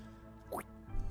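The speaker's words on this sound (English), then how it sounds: "these droplets kind of splash in the ground, like this" Sticky droplets of secretion splash onto the ground in a single soft, wet drip with a rising squelchy tone, followed by a dull plop, quiet and close against faint background.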